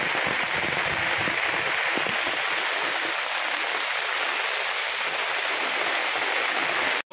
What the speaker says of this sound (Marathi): जोरदार पाऊस बघा. आणि पावसातून थोडंसं असं नाल्याचं स्वरूप आले बघा.